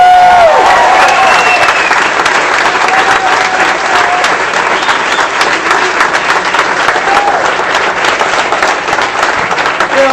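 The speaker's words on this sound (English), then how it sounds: "Big round of applause for Congresswoman Mia Love." Loud, dense applause from a large crowd at a congressional campaign kickoff rally, continuous clapping with scattered cheers filling the whole stretch at close range.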